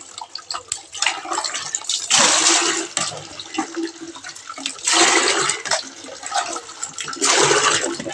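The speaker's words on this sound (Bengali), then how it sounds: "তারপরে জলটা বালতি বালতিতে ভরে দিচ্ছি" Water gushes from a tap into a bucket at home after dishwashing, in loud rushing bursts of a second or two that alternate with quieter trickling and drips, near and without any talk.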